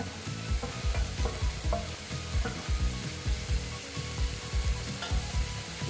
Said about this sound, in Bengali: ডালটা একটু কষিয়ে নিচ্ছি